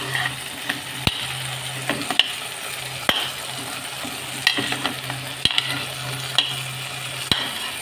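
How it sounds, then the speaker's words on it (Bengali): Potatoes stir-fried in oil in a pan for a Bengali egg and potato curry: a steady sizzle broken by sharp spatula clanks and scrapes against the pan every second or so, close and alone. "আলুগুলো একসাথে ভালো করে কষিয়ে নেব।"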